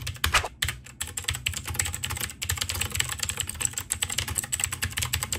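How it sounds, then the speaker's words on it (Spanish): Rapid, crisp clacking of mechanical keyboard keys, a steady stream of close keystrokes with a few short pauses, no voices. "la prueba de las teclas para que escuchen este sonido tan sabroso y tan fino que tiene este teclado"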